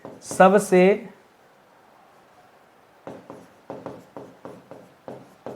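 Notes are written by hand in a string of short, scratchy strokes, close and fairly even in rhythm, following a brief spoken phrase and a moment of quiet.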